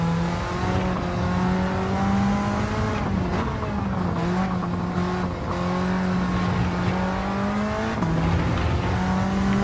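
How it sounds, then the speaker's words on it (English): A race car engine in Gran Turismo 7 revs steadily and loudly, its pitch rising and falling through gear changes, with a brief tire squeal. "Oh, but it revs so nicely."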